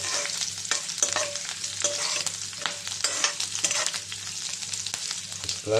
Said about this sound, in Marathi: आपण आपली लसूण आणि हिरवी मिरची जी आपण चिरून ठेवली होती ती पण घालून त्याला थोडंसं फ्राय करू